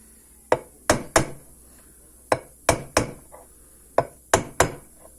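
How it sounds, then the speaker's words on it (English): Sharp taps of a hammer driving a crank bearing squarely into its bore, struck only on the outer race: nine distinct metallic knocks, mostly in loose pairs and triples, close and clear with no talking. "Not whacking it, just tapping it."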